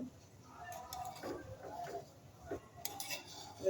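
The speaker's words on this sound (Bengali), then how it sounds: "হালকা করে নাড়া দেব।" Metal spoon stirring pilau rice in a cooking pot, soft scraping with light clinks of utensil against the pot, quiet and close, with a voice speaking over it.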